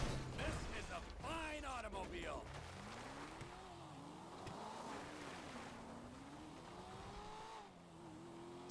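Vehicle engine in GTA V droning steadily with rising and falling pitch as the car drives through a rural area, under continuous noisy background and some talk at the start.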